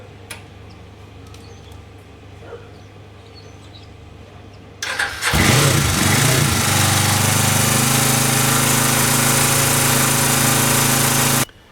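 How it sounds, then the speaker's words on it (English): A Suzuki GS500 motorcycle engine cold-starts about five seconds in, following a quiet stretch with faint background noise. It then settles into a loud, steady, close idle with raised revs that runs unbroken to the end. "how I started the bike cold"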